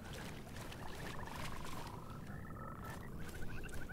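A frog in the Mortal Shell video game croaks in a steady run of quick pulses, moderately loud against a constant watery ambient bed with no talking.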